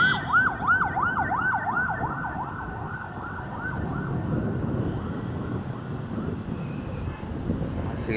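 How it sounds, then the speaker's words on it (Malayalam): An ambulance siren wails in fast, regular rising-and-falling sweeps over road traffic. It starts loud and close, then grows fainter as it continues. "ആംബുലൻസ് എന്തോ പുറത്തുനിന്ന് വരുന്നുണ്ട്"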